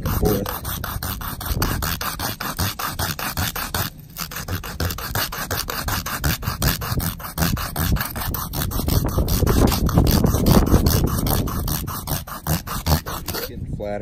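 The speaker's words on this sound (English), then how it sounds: "it's pretty good for just sanding this PVC pipe nice and flat and even" Continuous rhythmic rasping as PVC pipe is sanded flat against concrete, strokes scraping steadily back and forth for the whole stretch, loud and close with a brief pause early on.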